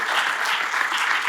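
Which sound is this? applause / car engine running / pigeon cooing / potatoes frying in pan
applause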